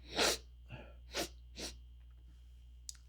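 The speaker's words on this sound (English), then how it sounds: "she's about to sneeze and yawn at the same time." A single loud sneeze up close, followed by a few softer breathy snorts and sniffs, then quiet.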